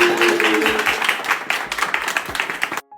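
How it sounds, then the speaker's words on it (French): Crowd applause greeting a guest, a dense burst of clapping with a few whoops that runs steadily for close to three seconds and then cuts off abruptly. "un bon accueil à Anissa et applaudissements s'il vous plaît."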